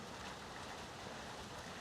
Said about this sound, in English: it's kind of raining harder now